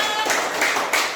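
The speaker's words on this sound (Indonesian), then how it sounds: "Tepuk tangan untuk Ibu." Students in a classroom clap for their teacher, a short burst of scattered hand claps with a few sharper accents over under a second.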